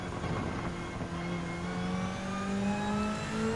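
A race car engine revs in Gran Turismo 7, a sustained rising mechanical whine climbing steadily in pitch as it accelerates, loud and continuous without talk.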